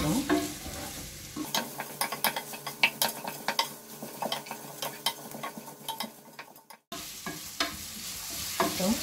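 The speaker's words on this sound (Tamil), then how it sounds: "வெங்காயம் கொஞ்சம் வதங்கட்டும்." Onions sautéing in a pressure cooker for egg biryani: a spoon repeatedly scrapes and clinks against the metal pot over a steady close sizzle, with a brief pause near the end before stirring resumes.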